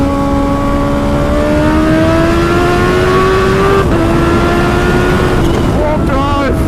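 Kawasaki Ninja H2 supercharged motorcycle accelerating hard, a loud continuous engine tone rising steadily in pitch, dipping briefly at a gear change, then climbing again through the revs.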